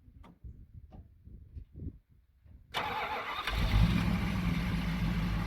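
A Mopar 440 V8 car engine cranks over with a rapid ticking starter after a few quiet clicks, then catches and fires into a loud, steady rumbling idle close by.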